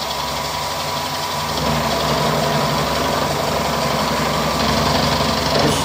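A machine cutting with a 17mm cutter on a steam brake cylinder being restored gives off a loud, steady mechanical drone that rises slightly in level after the first second and a half and continues unbroken.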